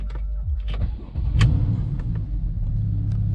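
A Porsche 911 991 Carrera starts by keyless push-button ignition, its flat-six catching with a low rumble that settles into a steady close idle, with a few light clicks on top.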